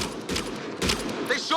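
Gunfire in the sci-fi video game Mass Effect Andromeda erupts in dense, overlapping bursts, a steady barrage with sharp impacts, all loud and close.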